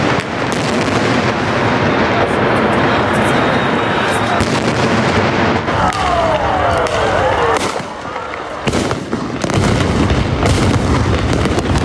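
Gunfire rings out during a street protest in Belarus, dense cracks and booms repeating over a loud, chaotic crowd, with people shouting throughout.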